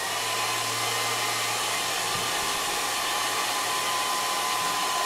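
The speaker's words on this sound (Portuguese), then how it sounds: "Pra eu ligar o secador nela." A hair dryer runs steadily at close range while drying a Shih Tzu dog, a continuous broadband whoosh with a faint motor hum that holds level for the whole stretch.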